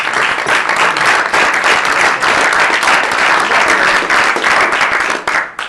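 An audience at a White House cabinet meeting breaks into loud, sustained applause, dense clapping holding steady for several seconds before tapering off at the end.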